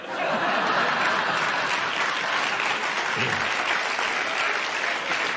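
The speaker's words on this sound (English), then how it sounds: "Who is clapping for this? Stop clapping" A studio audience claps steadily through a comedy talk show segment, dense continuous applause with a few scattered chuckles and a voice briefly audible underneath.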